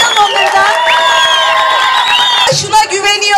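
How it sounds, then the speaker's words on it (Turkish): Crowd at a Green Left Party political rally in Antep cheering and whooping loudly, sustained shouting voices swelling into a burst of applause and cheers. "Hoş geldiniz, alkışlayalım"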